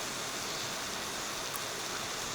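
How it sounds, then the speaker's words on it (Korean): A constant wash of flowing water, like a nearby stream or small waterfall, fills the clip with an even, unbroken hiss at a car-camping spot. "그 물소리가 좀 들리는 거?"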